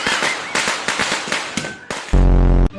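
A rapid string of firecrackers goes off in sharp, loud cracks with irregular bursts, then ends in a dense roaring crackle of blasts.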